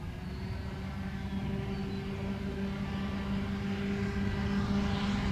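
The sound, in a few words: light aircraft taking off, brand new REVOLT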